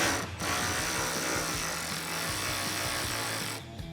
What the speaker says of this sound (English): Now you're gonna use a 15mm socket, the same one you use to take off your upper shock bolt